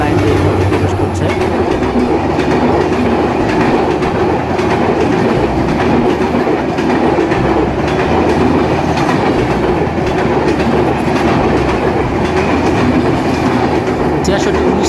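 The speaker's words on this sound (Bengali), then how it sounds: "পঞ্চগড় থেকে ছেড়ে আসা ঢাকাগামী 794 down Panchagarh express Azimnagar railway স্টেশনের 1 নম্বর লাইন দিয়ে প্রবেশ করছে" The 794 Down Panchagarh Express, bound for Dhaka behind a 6619-series American locomotive, rolls into Azimnagar railway station on line 1, a loud, steady rumble with clickety-clack of wheels over rail joints continuing throughout.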